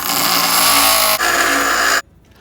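Grinding a brake pad for a 2005 Honda Pilot gives a loud, steady high whine with a brief dip midway, then cuts off sharply, leaving quiet room noise.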